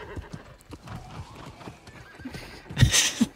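A horse mount in New World clops along with quick hoof beats, then lets out a loud whinny near the end, with faint voices underneath.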